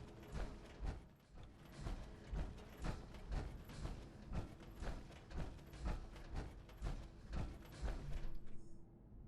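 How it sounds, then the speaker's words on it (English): A heavy vault sliding door in Fallout 4 grinds open with rhythmic mechanical clanks and thuds repeating for several seconds, fairly faint, ending in a short hiss. "Sliding door."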